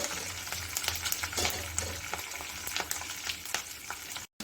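Chana dal and urad dal frying in oil on a stove with curry leaves and dried chillies, stirred continuously: a soft, steady sizzle broken by light scraping and tapping of the spoon, with no talking.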